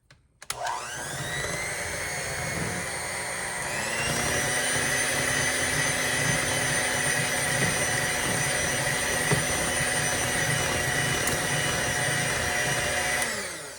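An electric mixer churns flour into figgy pudding batter. The motor starts with a sharp whir, then steps up to a louder, higher steady whine with a constant tonal hum that holds until it winds down at the end.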